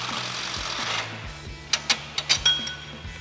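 An impact wrench fitted with an 18mm swivel socket loosening the lower sway bar mounting bolt, backed by a flag nut, on a Jeep Wrangler JL: a whir, then a quick run of loud hammering bursts.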